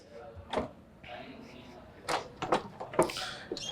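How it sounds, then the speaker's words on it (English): A door opens with a brief knock, then a slide and scrape while being held, with scattered footsteps and bumps nearby and some voices in the background. "Let me hold the door for you guys."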